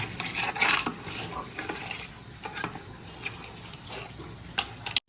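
Small mandeli fish (golden anchovy) sizzle and crackle in a pan, with scattered clinks and scraping of a utensil over the steady frying hiss.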